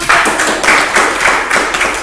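Participants in an Indonesian school teachers' training session clap together in a steady rhythmic pattern, a close, loud series of about seven or eight unison beats in quick succession.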